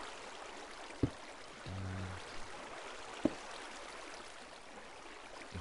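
Flowing water in Minecraft, a soft continuous trickling stream with a few brief block clicks, fairly quiet and without voices.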